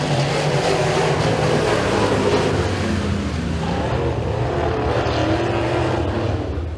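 Rush late model race cars are heat racing at Eriez Speedway, a loud, continuous engine roar from the pack that swells slightly as cars come off turn four, then eases a little toward the end.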